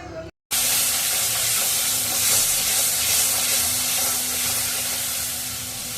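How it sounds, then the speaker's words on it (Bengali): Ginger garlic paste fries while being stirred in a pan, giving a loud, continuous, close sizzle with a steady hiss after a brief silence at the start. "পেষে রাখা আদা রসুন দিয়ে দেব। ভালোভাবে নেড়ে চেড়ে কষে নেব।"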